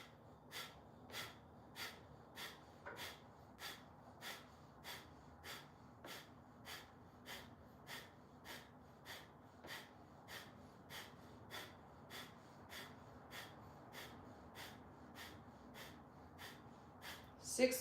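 Deep rhythmic breathing during a breathwork class, with about thirty quick, forceful breaths in a steady, evenly spaced cycle, close and fairly faint, with no talk over them.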